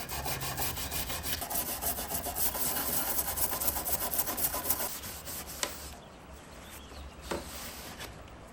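Scraping paint off an old painted antique table with a scraper and coarse steel wool, a loud steady rasping scrub close by that stops partway, leaving a few isolated scrapes and knocks.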